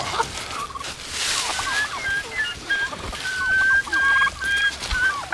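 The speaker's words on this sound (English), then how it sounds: "we're gonna let the old turkeys out to free range" Several free-range turkeys mill about outdoors, giving scattered clucks and thin squeaky calls of moderate loudness over a soft shuffling background, with no talk.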